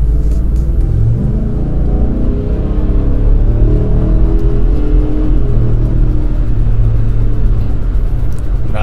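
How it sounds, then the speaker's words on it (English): A 2024 Ford F-250 XLT Super Duty pickup accelerating, its engine a steady, loud low rumble and whir heard from inside the cab, rising gradually with no talk over it. "Nice, smooth acceleration."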